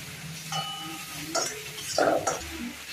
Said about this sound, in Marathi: त्यात लाल मसाला पण टाकलाय आणि फ्राय करते.